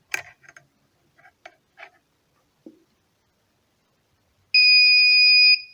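A few faint clicks and taps, then a loud, steady high-pitched electronic buzzer tone from an embedded system board sounds for about a second.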